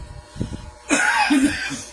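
A short throat-clearing sound followed by a rough, raspy cough, close and fairly loud.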